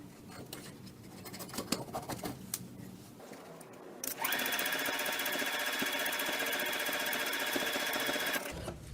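A sewing machine straight-line quilting a quilt with curved lines, starting after a few seconds of quieter handling noise and then running steadily and fairly loud for about four seconds before stopping.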